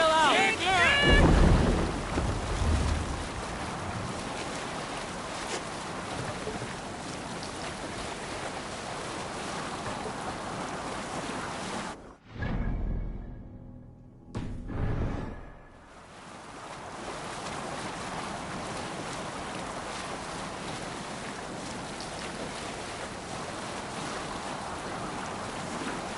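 Ocean waves and wind rush steadily around a sailing longship in Assassin's Creed Valhalla, a broad continuous surge with a loud splash at the start and a short dropout midway, with voices calling out.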